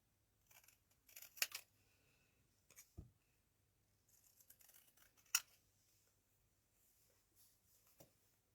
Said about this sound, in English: So I'm just going to cut this out just with scissors.